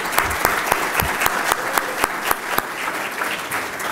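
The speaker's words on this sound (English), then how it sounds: "let me have one more round of applause, by the way, for Mitzi and for Teresa." Lively crowd applause at a membership meeting, loud and close, with sharp individual claps popping out in a fairly regular rhythm throughout.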